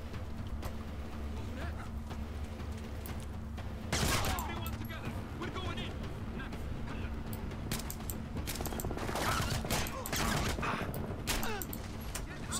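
Gunfire from the video game Splinter Cell, a steady spray of shots and crackling impacts running throughout over dense in-game ambience, with a louder burst around the middle.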